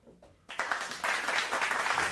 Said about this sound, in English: Big round of applause for Kev